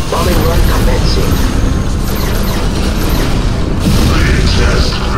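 Bombing-run explosions rumble through a Command & Conquer: Red Alert 3 Uprising battle, a continuous loud wash of booms and mechanical clatter with game voices mixed in.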